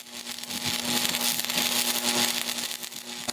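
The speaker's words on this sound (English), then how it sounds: "You can hear that Miller Thunderbolt groaning in the background" A Miller Thunderbolt stick welder running outdoors at a portable welding table. It gives a low steady hum under faint crackling and sizzling, fairly quiet, with no voices.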